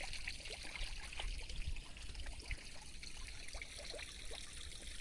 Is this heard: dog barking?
no